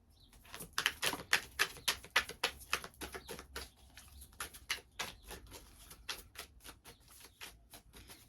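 Tarot cards are shuffled and drawn from a deck, producing a quick, close run of crisp flicks and taps in an irregular rhythm that slows midway, with no talking.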